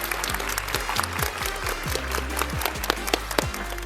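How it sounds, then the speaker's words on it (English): Students at a Granger High School assembly give a round of applause, dense clapping that carries on steadily for several seconds, with sharp individual claps and a low hum underneath. "So can you guys give him a round of applause?"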